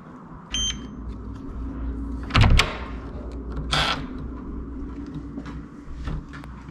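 Hotel room door on the seventh floor being opened, with a low rumble, a heavier thud of the latch and a sliding swish a moment later, fairly quiet and without talk.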